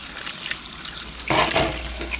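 Seashells are rinsed under running water to clear off sand and salt water, giving a soft steady trickle with a louder splashing patch midway, heard up close.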